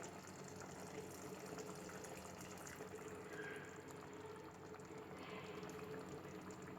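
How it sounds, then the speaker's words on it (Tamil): Coconut milk, ground from fresh coconut, poured into a pot of boiling brinjal gravy, giving a soft, steady liquid bubbling and pouring sound, faint and continuous throughout with no voices. "அதை அரைச்சி அதில் எடுத்த பாலை இப்போ விட போகிறேன்"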